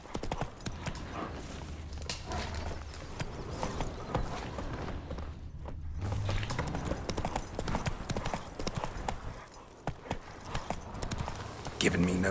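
Rhythmic hoofbeats of Geralt's horse Roach galloping in The Witcher 3, steady clip-clop running throughout under game music and spoken dialogue.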